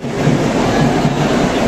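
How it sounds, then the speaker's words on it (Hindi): A Bhopal–Indore Vande Bharat Express pulls into Indore Junction with a loud, steady rumble of wheels and car noise close by and no pauses. "तो फाइनली हमारी ट्रेन जो है अब इंदौर जंक्शन में पहुँच चुकी है।"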